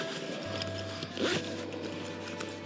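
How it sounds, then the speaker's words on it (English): A fishing vest's zipper is pulled once, a short faint zip against quiet background hum with no talking. "Yeah, the zippers are working."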